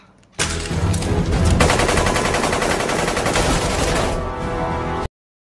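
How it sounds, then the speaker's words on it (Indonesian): M16 rifle firing in a film scene: a loud, sustained burst of automatic gunfire rattling continuously for nearly five seconds, then cutting off abruptly into silence. "Si bos yang tadinya culun menjadi nekat melawan Sinclair dengan senjata M16."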